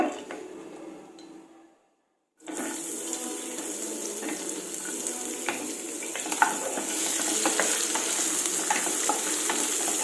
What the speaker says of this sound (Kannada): ಈರುಳ್ಳಿ ಫ್ರೈಗೆ ಇಟ್ಟೆ ಮೀಡಿಯಂ ಫ್ಲೇಮಲ್ಲಿ ಇಟ್ಟದ್ದು ನಾನು